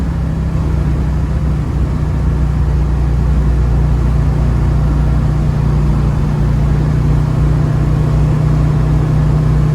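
Big block engine of a 1972 Chevrolet Nova running steadily, a deep constant low rumble with a heavy drone and no revving changes, close and fairly loud, with no voices over it.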